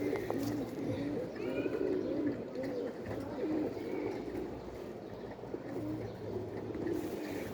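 Soft, repeated cooing of a white-headed domestic pigeon over a steady low background rumble, fairly faint and continuing throughout.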